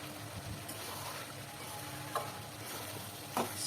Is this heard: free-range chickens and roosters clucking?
no